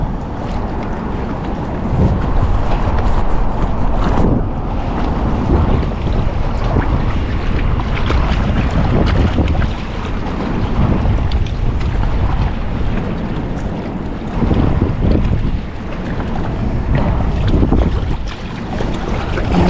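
Strong, steady wind roars and buffets a microphone outdoors by the sea, broad rushing noise swelling and easing throughout, with no voices.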